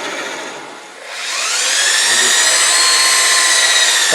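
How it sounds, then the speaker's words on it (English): A wood lathe spins while turning a bowl, its motor whine dipping briefly and then rising into a loud, steady, high-pitched hum that continues alone to the end. "Turn the lathe down."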